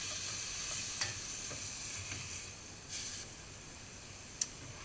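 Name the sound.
deglazing fennel pan with white wine, sizzling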